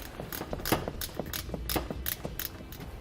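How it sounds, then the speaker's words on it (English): A ratchet with a 7mm socket loosens a fascia bolt on a 2018 Chevrolet Equinox, giving a quick series of close, crisp ratcheting clicks in an uneven rhythm throughout. "Now I'm going to be using a 7mm socket to remove it."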